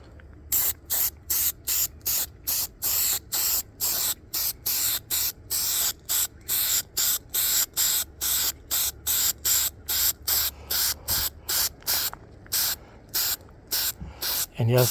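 Spray adhesive being applied to the side of a captain chair armrest in a rapid series of short, sharp aerosol hisses, evenly spaced and close, with brief pauses between bursts.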